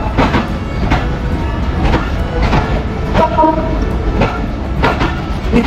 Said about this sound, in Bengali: প্রায় 25 মিনিট বিলম্বের বোঝা মাথায় নিয়ে তিতুমির এক্সপ্রেস প্রবেশ করলো পাঁচবিবি রেলওয়ে